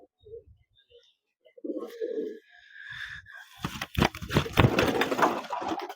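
Imported Teddy pigeons give soft, low coos close by at first, followed by louder rustling and fluttering of the birds being handled.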